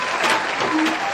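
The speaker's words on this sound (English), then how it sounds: "You guys give me a little applause." A brief burst of clapping from a small group of people, close and fairly loud, with faint voices mixed in.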